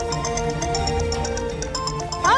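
A phone rings in a Hindi TV serial scene with a call from the goldsmith. A repeating electronic ringtone pulses in regular beats over background music, with no talking.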